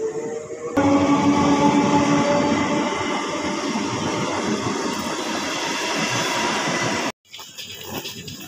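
A Memari local train bound for Howrah rumbles along with steady, close wheel and carriage noise for several seconds before the sound abruptly drops and resumes as a rougher clatter.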